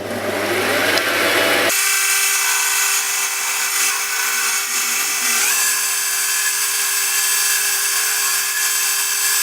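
A lathe turns a bicycle rear axle, giving a steady, loud mechanical whine with a sustained hum, after a brief noisier start; the cutting runs continuously throughout with no talk.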